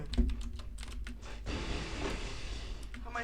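Keyboard typing from a new computer keyboard whose keys feel much better: a busy, steady patter of key clicks throughout, loud and close, with faint background voices mixed in.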